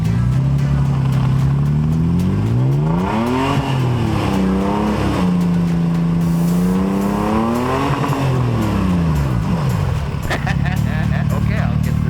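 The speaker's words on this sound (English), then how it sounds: "I ended up having to back up and bounce it off the rev limiter a little bit." Vehicle engine revving hard in mud, rising and falling repeatedly as it bounces off the rev limiter; loud, close, continuous, with several surging pitch sweeps across the clip.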